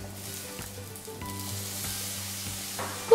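Tomatoes frying in a pan with ginger, garlic and green chili for a gravy: a soft continuous sizzle with regular stirring knocks, accompanied by a steady tonal hum in the background.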